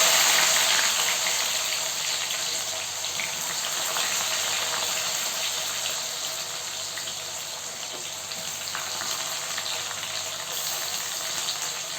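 Chopped onions sizzle in hot oil in a pan while a Telugu-style okra masala vada curry is cooked. A steady, close hiss of frying continues without pause, and no one speaks.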